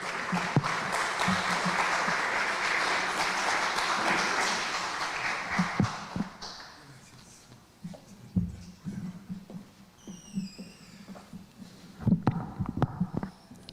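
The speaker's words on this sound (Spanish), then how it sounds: "Ahora sí, lo vamos a recibir con un muy fuerte aplauso" Audience applause at a book presentation greets the arriving author, a dense sustained clapping for about six seconds that then fades into scattered claps, shuffling and room noise.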